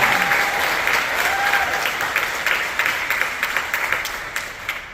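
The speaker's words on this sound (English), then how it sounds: "can we give a round of applause to all the soloists" A school wind symphony concert audience applauds the soloists, a sustained, even roar of many hands clapping that gradually loosens into more distinct claps toward the end.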